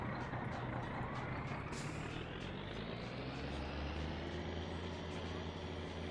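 A truck engine idles in the My Summer Car video game, a loud steady low rumble with a rising whine that holds throughout, close and continuous with no voices.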